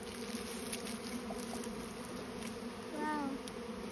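Honeybees fan and buzz at the entrance of a bait hive as a swarm moves in, a steady, close droning hum with one bee flying by loudly near the microphone.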